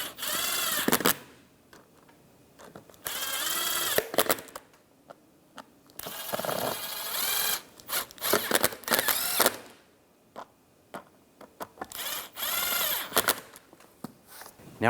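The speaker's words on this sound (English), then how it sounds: "Take all the screws, get those all started. And snug these down." Screws being driven and snugged down on the seat bottom of a 2000-2006 Chevrolet Tahoe, a series of short bursts of a power driver whirring and ratcheting, separated by quiet pauses, close up.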